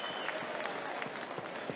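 A crowd applauds at a kickboxing fight. The clapping is dense and steady across the arena and lasts a brief stretch.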